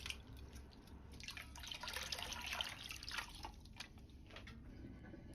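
Soaked wood ear mushrooms being rinsed in water, soft splashing and dripping with a faint running-water wash, quiet and close, swelling in the middle then easing off.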